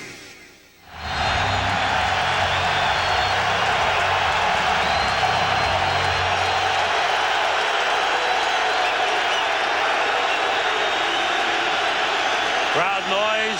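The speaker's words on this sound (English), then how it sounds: "Crowd noise elevating." A roaring crowd fills a football stadium at an Eagles–Browns game. After a brief quiet start the noise swells quickly to a loud, sustained, steady din that holds almost unchanged to the end.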